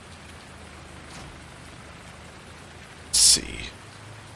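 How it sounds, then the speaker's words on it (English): Rain falls steadily and softly in Farming Simulator 19 during a dark, stormy spell, with a brief louder whoosh near the end and a few quiet spoken words. "I can't spray right now because it's raining"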